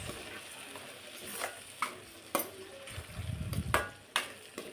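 A tomato and fenugreek curry with chilli cooks in a pan, giving a soft sizzle broken by several sharp scrapes and stirs of a spoon against the pan, with no one talking.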